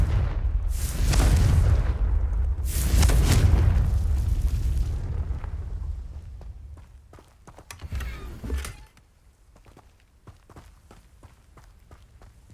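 A pair of deep, rumbling explosions from the Confringo fire spell in Hogwarts Legacy, loud and close in quick succession, fading into quieter footsteps and small clattering game sounds.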